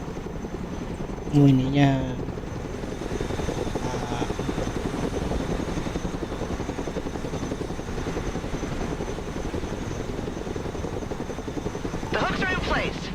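A Chinook helicopter in the game Broken Arrow, its rotor chopping steadily and loudly throughout, with a short voice line near the start and another toward the end.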